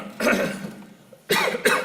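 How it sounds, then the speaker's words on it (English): Two harsh, close coughs separated by a short pause, the second one doubled, during a committee meeting. "I've got a hell of a cough."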